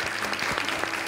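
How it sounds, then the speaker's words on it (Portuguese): A studio audience at a Brazilian TV program applauds two teachers, with dense, steady clapping filling the whole short stretch at close range. "Michelle Aline e Vera, palmas pra elas, né?"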